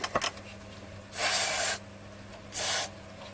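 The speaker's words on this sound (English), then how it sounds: "I wonder if we just give that wave change switch a quick spray" After a few faint clicks, an aerosol cleaner sprays twice onto the wave change switch of a Freeplay radio in short hissing bursts, each about half a second to a second long, close up.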